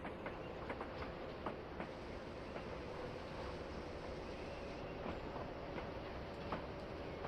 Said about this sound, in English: Shunter is working to get these cars up here